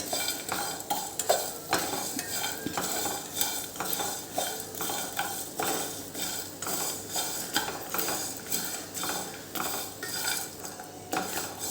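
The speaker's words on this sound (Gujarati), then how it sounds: "ને ફરીથી ચાર કે પાંચ મિનિટ માટે આપણે એને શેકી લેવાનું છે" Panjiri mixture stirred and roasted in a pan for a shahi panjiri, a spoon scraping and clinking against the metal pan in a steady, repeated rhythm with a faint sizzle underneath, close and fairly loud.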